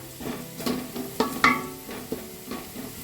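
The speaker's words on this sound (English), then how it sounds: "So our onion is light brown in color. We will cook it till they are nice golden brown in color." Onions frying in oil in a pot for a one-pot meal, with a soft steady sizzle broken by several sharp clinks and scrapes of a utensil stirring against the pan.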